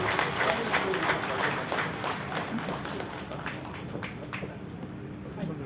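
A crowd at a Meghalaya political felicitation event applauds for the Chief Minister, dense clapping that runs throughout and eases slightly toward the end, with a voice over a loudspeaker underneath.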